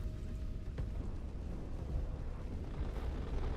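Rapid cannon fire from a Vulcan gun in the space combat game Space Engineers, a dense continuous roar of rounds and impacts filling the scene with no clear gaps, loud and steady throughout.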